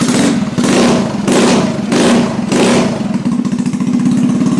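A GY6 scooter engine fitted with a slide carburetor revs hard in repeated blips, loud and close, its throttle snapping up and falling back between bursts with a steady idle underneath.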